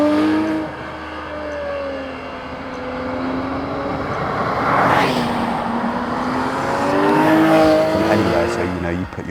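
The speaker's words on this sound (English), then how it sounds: "you put your foot down on the accelerator and it bursts into life." A Porsche GT3 RS 4.0 engine accelerates hard, its note rising and swelling in pitch over several seconds, loud and close from inside the car, with a voice talking over it.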